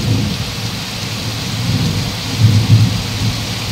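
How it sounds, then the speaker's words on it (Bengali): Heavy rain pours down in a dense, loud, constant roar while deep thunder rumbles low beneath it, swelling once more strongly toward the end. "শুনতে পাচ্ছ মেঘের আওয়াজ, মেঘ ডাকার আওয়াজ, ওই দেখো বৃষ্টি, দেখো প্রচুর পরিমাণে বৃষ্টি হচ্ছে"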